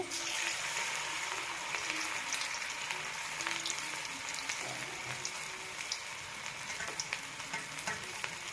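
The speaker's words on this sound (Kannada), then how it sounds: "ಚೆನ್ನಾಗಿ ಕ್ರಿಸ್ಪಿ ಆಗೋ ತನಕ ಅದನ್ನು ಫ್ರೈ ಮಾಡಬೇಕು." Cabbage Manchurian balls deep-fry in hot oil, a steady close sizzle and bubbling crackle running the whole time without letup.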